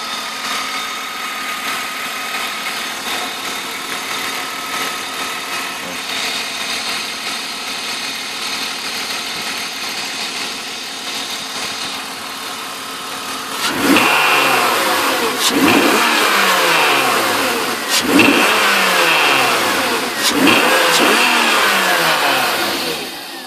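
A 1994 BMW E34 525i's M50B25TU engine idles steadily for a while, then revs up in several sharp bursts, each rising and falling back.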